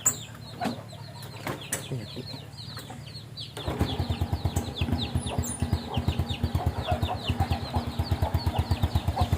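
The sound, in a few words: chickens clucking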